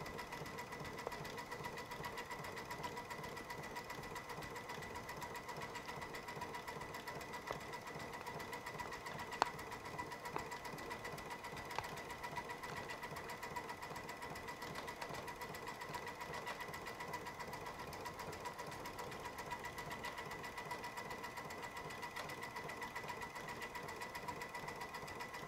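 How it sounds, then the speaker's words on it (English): A Baby Lock Altair sewing machine runs steadily during bobbin work with metallic cording yarn, a continuous even mechanical hum and rapid needle chatter lasting throughout at low volume, with no talking. "we're going to hit the start button and let it rip"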